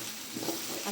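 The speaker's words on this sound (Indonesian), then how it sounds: "kita masukin toge, lalu kita aduk" Bean sprouts sizzle in a frying pan over low heat while being stirred, a steady soft hiss with small scraping touches, brief and close.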